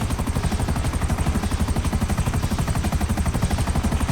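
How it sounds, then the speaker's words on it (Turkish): An aircraft approaching in GTA Online, heard as a steady, loud, rapidly pulsing rotor-like thrum that holds evenly for several seconds with no talking. "Uçak buraya geliyor çünkü."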